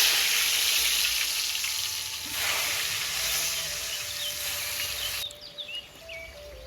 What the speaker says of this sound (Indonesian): goreng tempe.